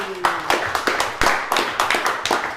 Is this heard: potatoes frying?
no